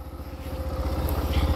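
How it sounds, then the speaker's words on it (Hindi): A Bajaj Platina motorcycle engine idles steadily after being started, a close, continuous low chugging putter with a fast even pulse and no voices over it. "तो हमारा बाइक स्टार्ट हो गया है"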